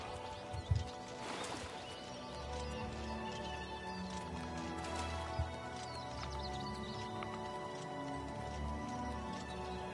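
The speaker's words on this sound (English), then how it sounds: "I don't know why there's just a horse on the bridge." A horse clip-clops on a bridge in the Oblivion Remastered video game, a few soft hoof knocks over a steady ambient bed with faint bird and ticking sounds.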